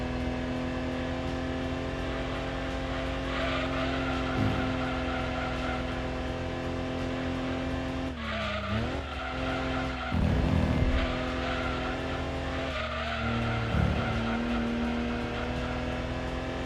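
Alfa Romeo 156 2.5 V6 24V, a front-engine, front-wheel-drive car with 195 horsepower, racing around the Rome circuit in Gran Turismo 2 on PS1. A steady, loud engine drone runs throughout, with gear shifts and bursts of tire squeal as it corners.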